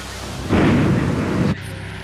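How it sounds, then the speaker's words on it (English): Thunder from a storm in a dinosaur park video game rolls out as a single deep, loud rumble lasting about a second, then cuts off abruptly to quieter background noise. "Or is this a storm?"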